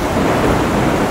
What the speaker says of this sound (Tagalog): Ang lakas ng bagyo,